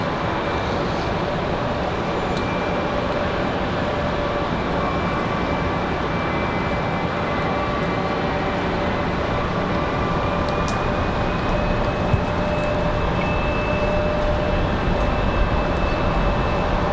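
A United airliner from Houston descends out of low clouds on a snowy day at Raleigh-Durham airport, a loud, steady engine roar with a faint whining tone, continuous throughout.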